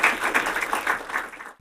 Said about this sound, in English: let's give Jensen a round of applause.